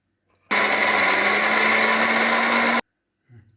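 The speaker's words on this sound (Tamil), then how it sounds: "இதை வந்து மிக்சியில் நல்லா குறைன்னு அரைச்சிட்டு வந்துடுறேன்" A mixer grinder runs at full power grinding soaked lentils with chillies, asafoetida and salt for radish paruppu usili, a loud steady whir for about two seconds that stops abruptly, then quiet.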